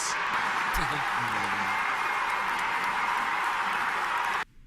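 A large stadium crowd roars and applauds continuously after a goal in a dense wash of noise, then cuts off abruptly at the end.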